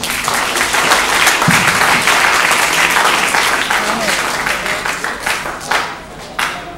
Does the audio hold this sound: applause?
yes